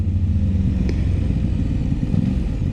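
An Aprilia RS 660 motorcycle under way, its quick shifter clunking through the change from first to second gear, with a steady loud engine rumble and a sharp brief knock near the start.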